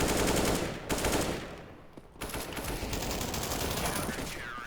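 Bursts of automatic gunfire in the video game CS:GO on the Dust map, rapid rattling shots in dense strings with a brief lull midway, loud and continuous.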